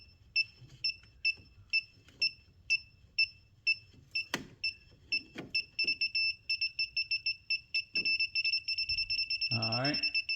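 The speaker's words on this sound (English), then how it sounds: "Wherever it beeps red this time is definitely the correct circuit breaker" A shrill electronic circuit breaker finder beeps in rapid repeated pulses that speed up into a continuous tone as it passes over breakers, with a voice briefly speaking and some handling noise.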